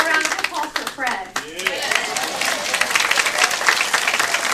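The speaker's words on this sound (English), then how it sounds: "Let's have a round of applause for Fred." An audience at a patriotic July Fourth chorale celebration breaks into loud, steady applause for a performer, the dense clapping holding strong and even throughout after a brief uneven start.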